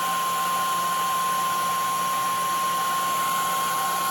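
A heat gun or hair dryer blows in a continuous, loud, even whoosh while warming a decal on a dented tank, with no talking.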